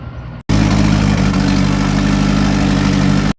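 A tractor engine idles in a farming video game, a steady, loud mechanical hum with a constant low drone, cutting in abruptly after a brief quieter moment and ending sharply.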